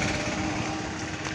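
A vehicle engine runs right after starting, a rough, buzzy, high-revving drone that stays steady and close through the short moment with no talk.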